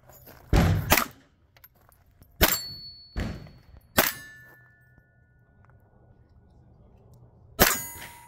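Gunfire striking a steel target on a shooting range: about five sharp, loud impacts spaced irregularly, several followed by a lingering metallic ring.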